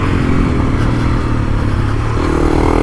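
A Honda CRF300L Rally motorcycle being ridden on a mountain trail, its engine droning loud and steady throughout, close up, with a constant rough rumble and clatter.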